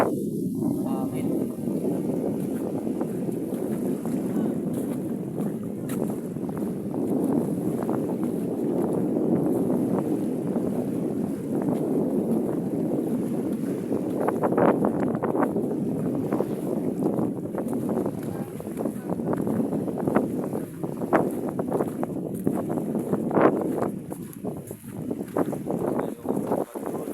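Steady wind buffeting on a boat on open water, a low rushing roar with gusts and occasional knocks, talk faintly underneath.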